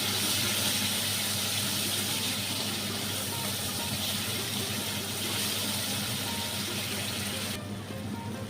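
Water is poured into a bowl to rinse out leftover soaked mustard powder while cooking Bengali parshe fish jhal; a steady, moderately loud wash of running water continues almost unbroken, then thins slightly near the end.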